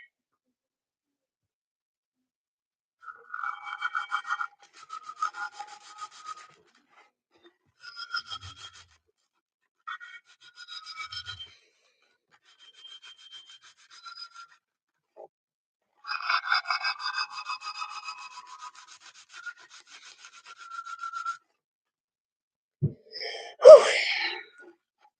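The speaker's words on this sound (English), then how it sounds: "Let's get lower grit sandpaper." Sandpaper rubbing on a puzzle clock for cubing competition, heard as several short bursts of scratchy rasping strokes with pauses between, close and moderately loud, ending in a brief louder scrape.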